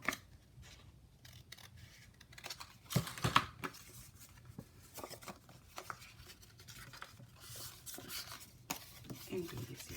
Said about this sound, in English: Cut the corners.